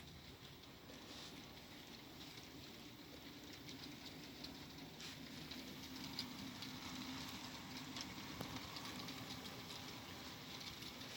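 HO scale model trains running through a busy yard, with two trains moving at once; a steady mechanical rumble and whir hold at an even level throughout, with faint clicks over a constant background noise.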